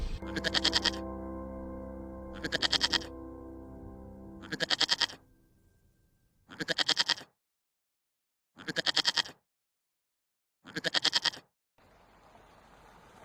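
Sheep and goats of a shepherd's flock grazing in the mountains bleat in repeated loud, wavering calls, each about a second long and separated by pauses, with a steady drone under the first few and faint rustling at the end.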